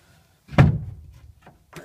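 A stiff wooden hatch on a racing pigeon loft is pushed shut with one firm thunk, followed by a couple of faint knocks as it settles.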